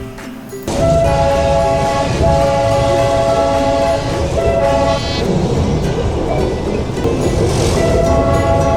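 The Darjeeling Himalayan Railway toy train pulls away from Tung in the evening, its horn sounding in repeated tonal blasts over a loud continuous rumble and rattle of the small carriages.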